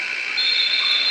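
At the end of the first half of a high school basketball game between Caldwell County and Dawson Springs, the gym buzzer sounds one loud, sustained, steady tone.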